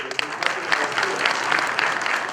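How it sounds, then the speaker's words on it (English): An audience at a university closing ceremony for a geology and engineering conference applauds, a brisk run of crowd clapping at moderate distance with faint voices mixed in. "How about a round of applause for our university here?"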